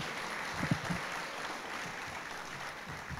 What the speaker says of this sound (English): So how about a big round of applause for everybody that showed up today?